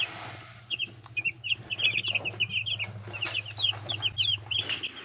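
Baby chicks in an old chicken hutch cheep and cluck in quick, high bursts over a low steady hum, close by and busy throughout, with no talking.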